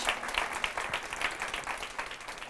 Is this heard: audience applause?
yes